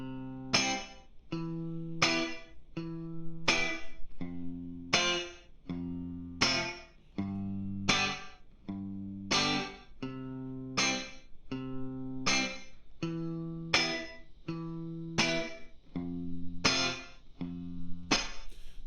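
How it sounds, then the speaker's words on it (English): Motown-style rhythm guitar chords strummed in a tight, steady rhythm of short stabs with brief gaps, played alone, clear and close. "So there's this rhythm guitar going that's just like boom,"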